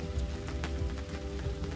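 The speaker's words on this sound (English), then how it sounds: "it's been raining there for maybe an hour" Rain falls steadily at a campsite, a continuous soft pattering hiss with scattered louder drops close by.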